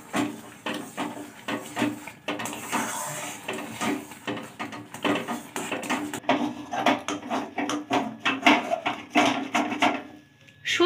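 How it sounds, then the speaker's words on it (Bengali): Semolina dough being stirred in a pan with a spatula, repeated knocking and scraping strokes in a quick irregular rhythm, loud and close, with brief pauses. "আমি সুজি একেবারে ঢেলে দেব না, অল্প অল্প করে দেব আর খুন্তির সাহায্যে এইভাবে নেড়ে নেব"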